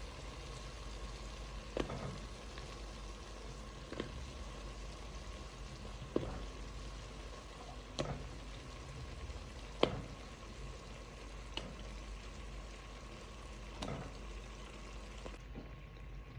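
Potatoes frying in a pan with turkey meat, a quiet continuous sizzle with soft periodic clinks and stirring knocks every couple of seconds, no talking.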